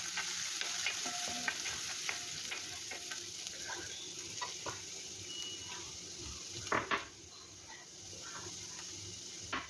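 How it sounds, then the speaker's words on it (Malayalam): Chopped cashew nuts fry in a pan with a soft, steady sizzle, broken by scattered scraping stirs and light clicks of a spoon, one louder stir near the end, all quiet and close with no speech. "കുറച്ച് കാഷ്യൂ നട്ട് ഞുറുക്കിയതും കൂടി അതിലേക്ക് ഇട്ട് കൊടുക്കാം. ഒന്ന് മൂപ്പിക്കുക."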